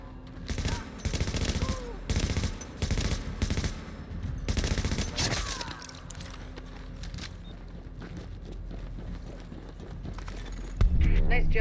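Rapid weapon fire in The Division video game: several close bursts of automatic shots in the first half, then a quieter stretch of game ambience and a final loud hit near the end.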